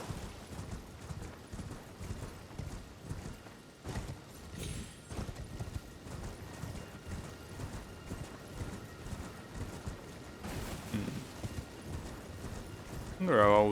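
A horse's hooves clip-clop in the Elden Ring game world, a steady muffled rhythmic trot over a busy game soundscape with a voice talking over parts of it.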